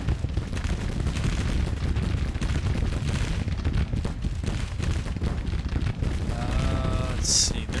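Dense, continuous gunfire in a Civil War strategy game, a flanking volley of massed musketry rumbling at steady loudness throughout, with a brief bugle-like tone near the end.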